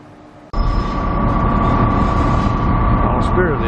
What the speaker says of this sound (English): The Spirit of the Outback train is about to depart for Longreach.